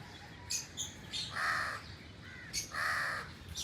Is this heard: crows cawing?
yes